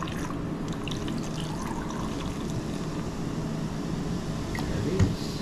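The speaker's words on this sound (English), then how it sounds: "can hear the fizz, maybe" A freshly opened cherry Coca-Cola fizzes with a soft, continuous crackle and trickle in a home kitchen, low and close, with a small clink near the end.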